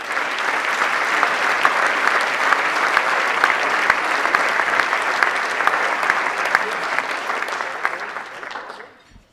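Audience applause welcoming a presenter to the stage at an awards event: loud, sustained clapping from a large crowd that continues for several seconds before tapering off abruptly at the end.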